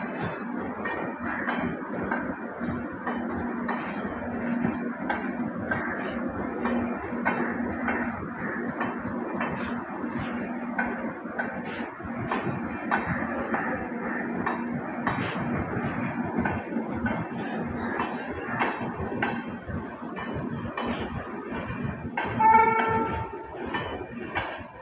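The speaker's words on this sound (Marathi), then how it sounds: "1-7-6-1-3 Panvel Nanded express is arriving shortly on" The 17613 Panvel–Nanded Express pulling into a platform at Karjat station, heard as a long, even rolling rumble of wheels and carriages, with a short metallic clink near the end.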